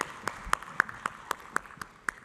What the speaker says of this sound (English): Keep the applause going for this group.